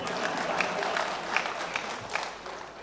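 An audience at a cricket memorial lecture claps in a brief, moderate burst of applause, a dense patter of hands heard from within the hall.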